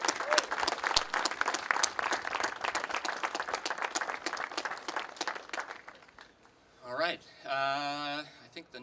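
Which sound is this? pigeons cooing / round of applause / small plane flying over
round of applause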